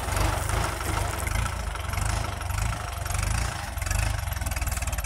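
A Kubota L5018 tractor engine runs with a cassava planter attached, chugging at a steady idle-like pace with a rhythmic low pulsing throb, close and loud, with no voices.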